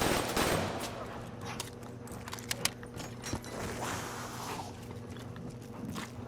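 M8A7 rifle firing in a Call of Duty zombies game: a strong burst at the start, then scattered sharp shots and clicks over steady background hum, with footsteps in between.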